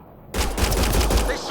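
Video-game gunfire in Mass Effect Andromeda erupts suddenly after a brief silence, a dense, loud burst of rapid shots lasting just over a second.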